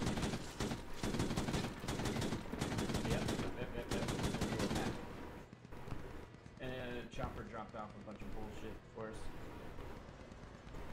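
Bursts of rapid gunfire and single shots from a squad-based military video game match set in a desert with an amphibious vehicle, loud and dense at first, then sparser shots while players talk over it.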